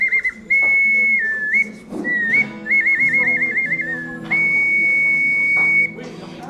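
Prehistoric whistle carved from mammal or bird bone, blown in several shrill, piercing tones, some held steady and some warbling, separated by short breaths and gaps.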